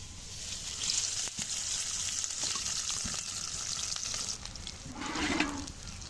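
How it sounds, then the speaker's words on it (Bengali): Onions fry in oil with a soft, steady sizzle and occasional stirring clatter, swelling into a brief louder hiss near the end. "আমি পেঁয়াজগুলো দিয়ে নিলাম।"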